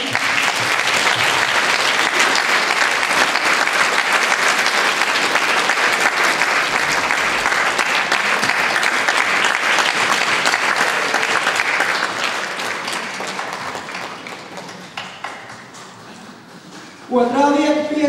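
Vigorous applause from a theatre audience for a singing society's duet during a stage musical, loud and steady for about twelve seconds before thinning out and fading near the end.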